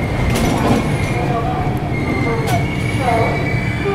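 Double decker train halting at Katpadi Junction, with steady loud rumble, wheel squeal and brake hiss filling the whole stretch.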